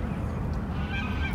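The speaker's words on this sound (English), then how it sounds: "Let's go walk up to the bird, see what happens." Birds honk near the water under a bridge, a brief continuous burst of goose-like calls amid outdoor ambience.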